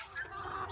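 Chickens being let out of a chickshaw cluck and chortle in a brief, faint, low burst of murmuring sound.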